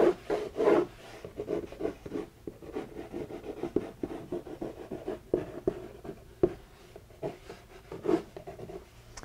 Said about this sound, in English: I'm going to use a real dark pencil here so you can see the line work.